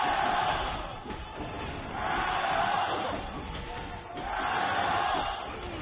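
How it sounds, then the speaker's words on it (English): A large indoor crowd at a League of Legends esports gold medal match, China vs Korea at the 2018 Asian Games, roars and cheers continuously, the noise swelling in waves. "You can hear the audience cheering it because this is a very close game."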